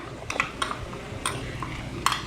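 A spoon scrapes and clinks against a pan as Balchao masala paste is stirred into caramelized onions, with a few soft metallic taps over a low sizzle.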